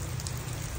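Rain falls in a steady, dense hiss with a low rumble, an unbroken wash of drops throughout the short stretch.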